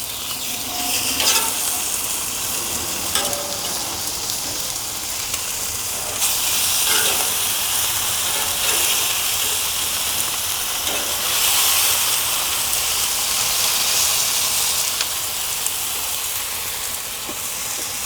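Meat searing on the infrared sear station of a hybrid grill: a steady, loud sizzle and hiss that runs the whole time, close up, with faint crackles and no voices.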